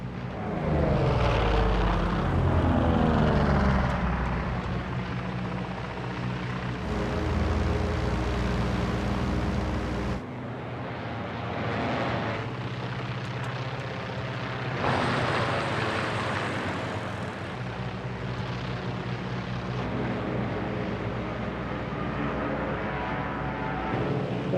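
Propeller warplane engines roar in flight as the aircraft descends in the war film Midway, a loud, sustained droning with shifting tone and abrupt changes in level, like cuts between shots.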